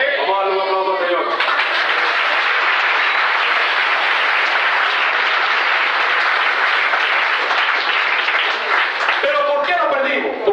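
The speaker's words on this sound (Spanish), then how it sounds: "Vamos a darle un aplauso al Señor" Loud, sustained applause from a church conference audience, dense clapping filling the room for several seconds, framed by a man's amplified speech just before and after.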